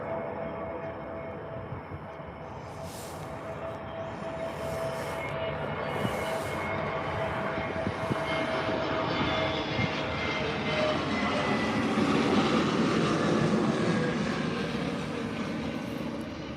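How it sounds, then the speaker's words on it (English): Frontier jet airliner in special livery passing at Tampa airport, a steady broad engine roar building gradually and peaking near the end, heard from outdoors at moderate distance with no talk. "we will end it on that Frontier special livery"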